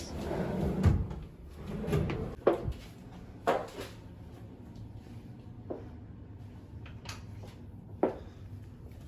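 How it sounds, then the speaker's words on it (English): Big drawers in a hotel room at the Vivanta Dwarka being pulled open and pushed shut, a series of soft wooden knocks and slides, some close together and others spaced apart, over a quiet room background. "these big drawers."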